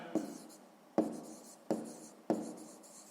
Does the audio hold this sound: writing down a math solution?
yes